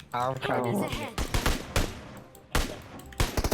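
Gunfire in the PUBG Mobile battle royale game: several bursts of shots ring out loud and close, the sharpest spaced around a couple of seconds apart, mixed with game sounds and some speech.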